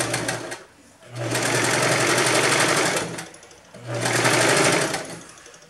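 A sewing machine stitches the side seams of a blouse in two bursts of rapid, rattling stitching, each lasting about two seconds. The bursts sound close and loud, with brief quiet pauses before and between them.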